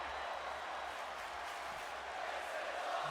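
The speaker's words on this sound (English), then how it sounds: "Crowd chanting, this is awesome." Steady roar of an arena crowd chanting in the WWE 2K26 wrestling video game, a dense continuous wall of crowd noise filling the whole stretch without pause.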